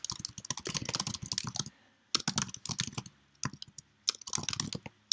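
Rapid typing on a computer keyboard while composing a MailChimp newsletter, dense close-up clatter in three bursts separated by short pauses.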